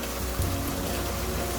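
Steady hiss of small hail pellets pattering on surfaces in Riyadh, continuous and fairly loud, with no voices.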